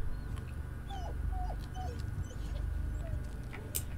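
A dog in the Blair Witch video game gives several short, high whimpers over a low, steady background drone.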